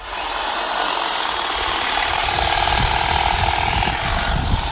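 A cordless AL-KO HT 1845 18 V hedge trimmer cuts grass, a loud continuous motor whine with a rough buzzing chatter of the blades, close up and steady throughout.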